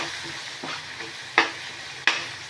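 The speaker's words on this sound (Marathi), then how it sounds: "आता हे मसाले छान असे तेलावर कांद्यामध्ये परतून घ्यायचे" Ground spices with onions stirred in hot oil in a pan for a cauliflower dish, a soft steady sizzle under two sharp scraping clinks of a spoon against the pan, close by.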